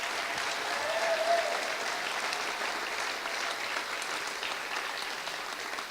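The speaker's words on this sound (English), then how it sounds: "can we give them another big round of applause and say congratulations?" Chamber of Commerce awards banquet audience applauding the honorees: steady, fairly soft crowd clapping that fills the room evenly throughout, with little other sound.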